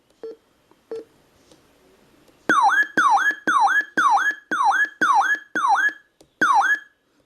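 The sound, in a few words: weather radio alert test tone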